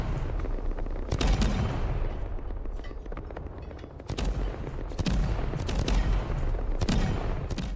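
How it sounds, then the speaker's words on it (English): Rust naval-wars event with cannons firing at the South Nexus: heavy, overlapping booms and sharp blasts keep coming in a dense, rolling barrage, loud and continuous, with several sudden louder impacts spaced through it. "Look at all of those cannons firing at the South Nexus."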